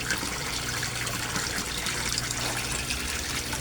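Resun aerator pump bubbling and churning water in a koi pond, a constant close frothy gurgle and trickle that holds steady from start to finish.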